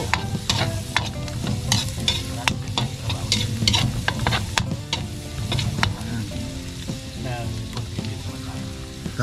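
Garlic frying and sizzling in a pan, stirred now and then, with steady loud crackle and sharp scraping clicks close by, no talk.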